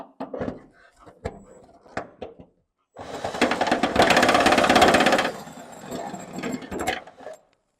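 Power drill boring a hole for Bronco mounting bracket bolts, stepped up to 3/8 inch, whirs in one steady burst of a few seconds after short scattered clicks and handling knocks, then fades into light clatter.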